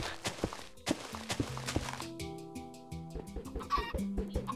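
Chickens in Minecraft, spawned in large numbers in creative mode, cluck with tonal game sound effects layered over footstep thuds and other in-game noises throughout.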